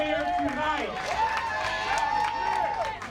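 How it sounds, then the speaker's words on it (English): Crowd noise and scattered applause at a Dolton election night gathering, a dense, steady wash of clapping and cheering from a large audience that fills the moment without a break. "Everybody give yourselves a round of applause."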